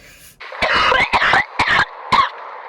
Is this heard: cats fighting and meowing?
no